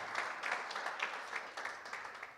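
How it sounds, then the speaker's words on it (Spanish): A church congregation applauds in a steady wash of many hands clapping, faint and somewhat distant, with no clear speech over it. "Dale un aplauso al Señor."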